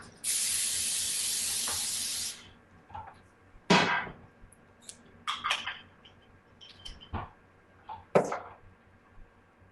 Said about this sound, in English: I'm going to spray my cookie sheet with some handy dandy Pam